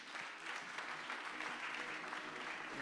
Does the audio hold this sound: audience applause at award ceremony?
yes